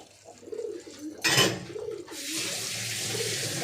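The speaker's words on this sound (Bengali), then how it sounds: "দাঁড়াও তো হাতটা ধুয়ে নিই।" Tap water runs as hands are washed, a steady hiss that starts partway through and continues to the end, preceded by a short splash and soft rustling, close and moderately loud.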